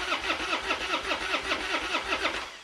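Car engine cranking repeatedly without catching, a rhythmic whirring starter churn used as a horror movie sound effect, loud and continuous with no voices.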